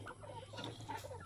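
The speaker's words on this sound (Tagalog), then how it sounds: "Ang galing mong manok ka ha, yung babaeng manok na yun." A hen clucks in a farmyard pen, several short soft clucks near the microphone over a steady low hum of background noise.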